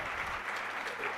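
A seated audience at a medical conference claps steadily, a dense, even wash of applause from many hands that fills the whole moment without any voices.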